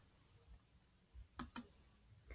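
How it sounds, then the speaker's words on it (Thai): A computer mouse clicks a share button in Google Drive, giving two sharp clicks in quick succession and then a softer third one, against quiet background hiss. "ให้คลิกที่ ปุ่มเครื่องหมายแชร์นะคะ"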